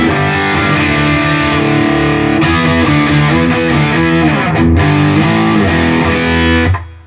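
Electric guitar played through a Boss DS-1W Waza Craft distortion pedal in standard mode, loud saturated chords and a sustained riff with bright crunchy overdrive, ringing out alone before cutting off.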